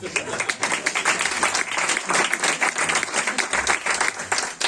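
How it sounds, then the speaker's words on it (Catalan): Steady applause from a crowd at a presentation in a rural guesthouse, dense clapping filling the whole stretch with some voices mixed in. "i tenim així un aplaudiment per les xiquetes, per favor"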